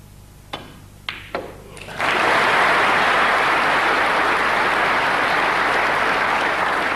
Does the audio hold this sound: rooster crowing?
no